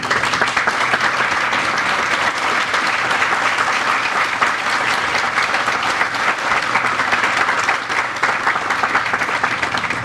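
Applause greets hospital board members at a health center ribbon-cutting ceremony. The dense crowd clapping is loud and unbroken for the full length, with no talking over it.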